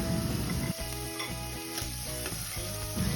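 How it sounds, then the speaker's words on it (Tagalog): Onion and ginger sautéing in a pan for tilapia with kamias, giving a steady close sizzle with stirring scrapes throughout, no talk. "Unang step, maggisa ng sibuyas at luya."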